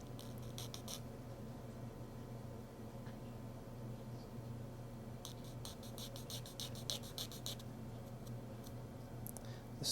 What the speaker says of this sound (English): now I'm just going to take a rectangular file, small file, and we're going to cut those grooves just a little bit deeper